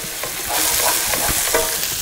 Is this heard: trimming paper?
no